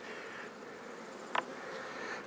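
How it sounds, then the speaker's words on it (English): Honeybees crawling inside a queen cage give a faint, steady buzz that stays low throughout, broken by one brief sharp click just past the midpoint. "It's quite often bees running around in the cage."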